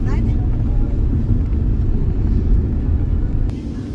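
A car rolls into the parking area of the Shri Swayambhu Chandika Devi temple in Dapoli, its steady, close engine rumble continuing for the whole stretch and easing slightly at the end.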